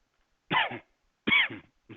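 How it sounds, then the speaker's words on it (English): A person coughs twice, then starts a third, each a short, harsh burst separated by silence, close to the microphone. "I've been annoying myself coughing so much"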